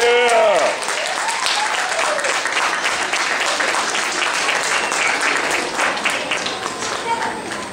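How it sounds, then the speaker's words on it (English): Sustained applause from a school awards audience, a dense wash of clapping that starts right after a brief voice and continues steadily to the end, with a few cheers mixed in. "Okay, give them a nice round of applause."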